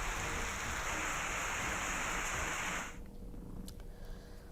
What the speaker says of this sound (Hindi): मुंगेली में लगातार ये बारिश हो रही है